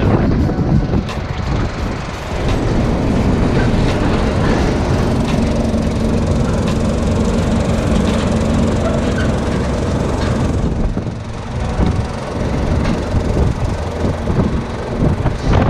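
A semi-truck engine in Japan runs with a loud, continuous low rumble and mechanical clatter that stays dense and unbroken from start to finish.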